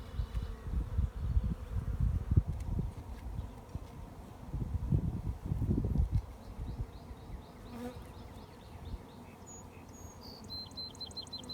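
Honeybees buzz around an open 8-frame hive in an apiary, a steady low droning hum close by with louder surges as bees pass near, and faint birdsong in the background.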